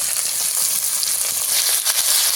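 Onion, tomato and garlic paste fry steadily in a pan for a bogo fish curry, with a dense, continuous close sizzle and a few faint stirring scrapes, with no voices.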